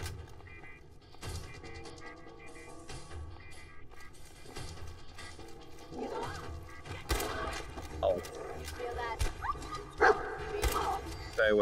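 A dog in the video game Fallout 4 VR barks and whimpers amid busy game sounds and music, with a few sharp yips standing out over a dense, moderately loud background.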